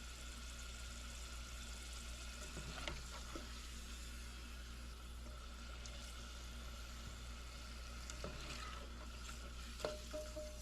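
Sweet potato fries crackle and sizzle softly in hot oil on a stove, a steady faint bubbling hiss broken by a few clinks and scrapes.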